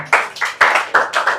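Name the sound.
audience clapping hands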